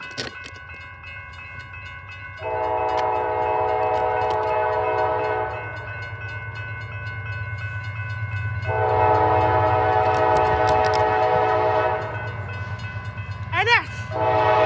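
A Norfolk Southern freight train approaches a grade crossing at Emmons Boulevard in Wyandotte, sounding two long, loud multi-tone horn blasts over the steady low rumble of the moving train, with a brief bell-like chirp near the end.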